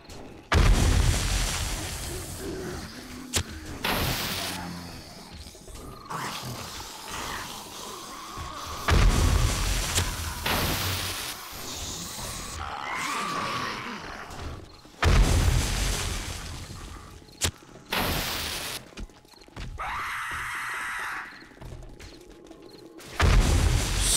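Explosives blow apart zombies in the survival game 7 Days to Die, Undead Legacy mod: a series of loud, close booms spaced several seconds apart, each decaying into rumbling debris and quieter combat noise between blasts.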